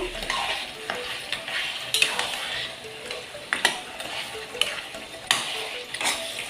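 Fish heads frying in a pan for a taro curry are stirred with a utensil, giving a steady sizzle broken by repeated scraping clinks against the pan, close and fairly loud with no talking.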